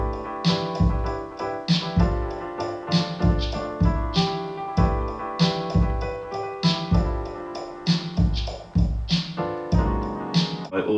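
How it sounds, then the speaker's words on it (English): Lofi hip hop piano part with a delay effect, soft chords and notes repeating in a steady loping rhythm with echoing tails over a thumping beat, moderately loud and uninterrupted. "it's got a delay on"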